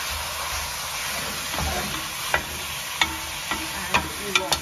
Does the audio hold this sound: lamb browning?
yes